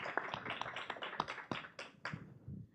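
Scattered, sparse clapping from an audience at a panel event on disaster response, individual claps standing out clearly at irregular intervals rather than a full ovation, fading toward the end.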